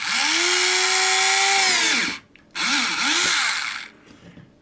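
A power drill boring a hole in timber for a model ship part, whining loudly and steadily at close range, dropping briefly as the trigger is released, then revving up again and winding down.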